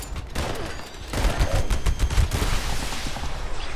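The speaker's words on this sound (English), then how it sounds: "Now if I want to shoot this guy in the legs, I can cripple his legs." Rapid automatic gunfire from the Pepper Shaker weapon in the video game Fallout 76, a dense, loud continuous burst of shots with heavy low thumps running the whole time, no talk over it.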